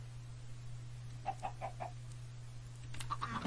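A chicken in a desert survival video game gives a short run of soft clucks over a steady low hum, followed by a few more faint clucks, with no talk.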